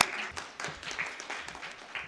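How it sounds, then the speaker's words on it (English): An audience at a Kashmir women's award ceremony gives scattered, moderately faint clapping, individual claps standing out in an uneven rhythm with no clear talk over it. "Big round of applause for Mehran and team."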